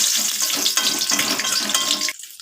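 Bay leaf and dried red chilli sizzle in hot mustard oil in a kadai, a steady loud crackling hiss that runs unbroken and then cuts off sharply near the end.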